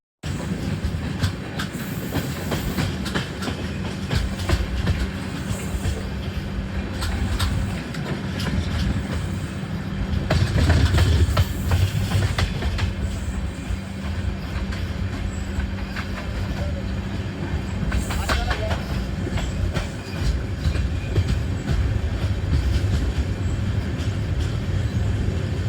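The Devagiri Express passenger train runs on rails between Mumbai and Secunderabad, a steady loud rumble with clickety-clack of wheels over joints and brief surges in noise, heard from on board.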